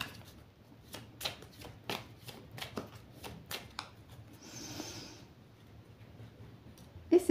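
Tarot cards being cut and shuffled by hand, a string of crisp riffling flicks and taps at close range, then a short soft swish before a final snap.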